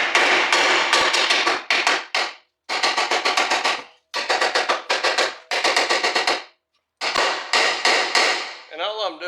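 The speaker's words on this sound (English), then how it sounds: "all it took was a hammer" A hammer knocks a suspension bushing out of a car in loud, close bursts of rapid metallic blows, separated by short silent pauses.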